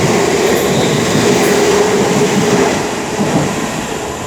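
A train rumbles loudly past on the West Coast Main Line at Coventry, its close, continuous roar of wheels and carriages easing slightly toward the end.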